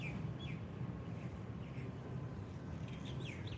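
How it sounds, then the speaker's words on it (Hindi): Small birds chirp outdoors in short, faint, scattered calls that come and go over a steady wash of wind and distant rumble, with no voices. "पक्षियों की आवाज़ सुनने का प्रयास करें।"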